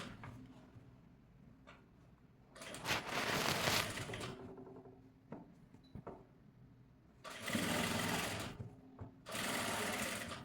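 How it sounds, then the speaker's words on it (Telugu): Sewing machine stitching a blouse neckline alongside piping, running in two loud bursts of steady whirring stitches separated by quieter pauses with faint handling noise; no talking. "ఇప్పుడు మళ్ళీ మనము నార్మల్ స్టిచ్కి పెట్టేసుకొని నెక్ అనేది స్టిచ్ చేసుకోవాలి"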